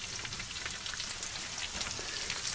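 Potatoes fry in a pan inside a dugout shelter, giving a steady, dense crackling sizzle that runs evenly and close throughout, with no talk.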